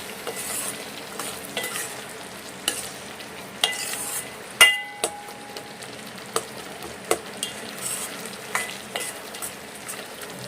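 Mustard seeds, peanuts and chopped tomato frying in hot oil, a steady close sizzle broken by scattered crackles and pops, with a sharp spattering burst in the middle of the clip.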